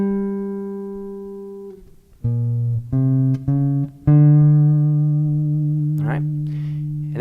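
Electric guitar playing the closing measure of a twelve-bar blues solo in a lesson, with sustained bent notes, short picked phrases and a final ringing chord, played alone and close.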